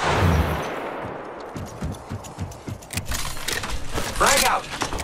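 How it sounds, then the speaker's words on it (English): Gunfire in the video game Apex Legends, a rapid burst of sharp shots with scattered crackling impacts, mixed with game voice lines and effects. "Opening fire"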